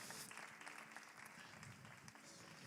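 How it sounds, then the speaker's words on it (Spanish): A church congregation claps loudly together during a Spanish-language service, steady dense applause filling the space from start to finish. "Si logré dar un aplauso fuerte a su palabra"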